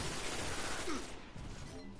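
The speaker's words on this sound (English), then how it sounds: "Stolen Will is such a fun gun to use." Rapid video-game gunfire from the Stolen Will gun forms a dense, loud volley that thins out and grows quieter toward the end.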